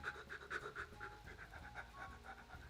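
A man imitates shallow breathing with quick, rhythmic panting breaths, about a dozen short in-and-out puffs spread evenly over a few seconds, close to the microphone with no words spoken.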